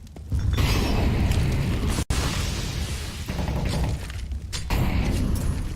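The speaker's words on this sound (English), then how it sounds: "Some nades being traded, but not really any ground being made up." Grenades explode and trade back and forth in a CS:GO professional match, dense loud booming blasts and crashing debris with one abrupt cut partway through, continuous throughout.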